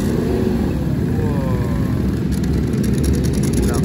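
A Yamaha MT-10 with a crossplane engine revs among a gathering of big motorcycles, a steady loud engine drone running throughout with rising rev sweeps partway through.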